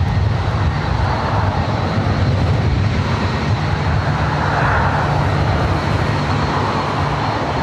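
A jet aircraft at LAX airport roars loud and close, a steady thunderous broadband engine rumble that holds at full strength throughout, with no voices.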